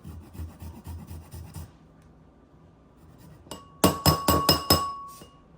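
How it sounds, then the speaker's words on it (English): Fresh ginger is grated on a microplane into a bowl, with soft rubbing at first, then a pause and a burst of five or six sharp, close rasping strokes against the metal. "I'm just gonna grate it over a microplane in here into a bowl."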